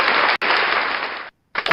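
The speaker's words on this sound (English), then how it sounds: "give her applause." A talk show audience gives a short burst of loud applause for a guest that cuts off abruptly, briefly resumes, then breaks off again.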